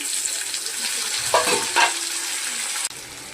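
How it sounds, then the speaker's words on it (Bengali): Chopped tomato drops into a pan of potatoes frying in oil, adding a couple of brief splashy crackles over a steady close sizzle, with no talk. "এই যে টমেটো কুচিটা দিয়ে দিলাম।"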